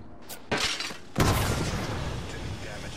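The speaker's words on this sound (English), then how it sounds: "They shot a smoke canister up." A smoke canister launched upward in the Apex Legends ranked match, a sharp pop near the half-second mark followed by a louder, booming discharge that rolls into a sustained hissing rumble.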